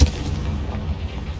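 A Confringo fire spell blast in Hogwarts Legacy, a single deep booming impact at the start that decays into a rumbling low tail.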